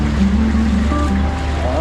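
A motorboat engine runs on floodwater in a swamped town in Sto. Tomas, Pampanga. It drones low and steady close by, with water and wind noise and faint voices.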